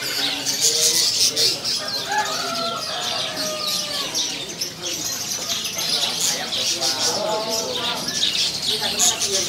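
Caged songbirds at a busy bird kiosk chirp and whistle in bright, overlapping trills, while people talk over the birdsong.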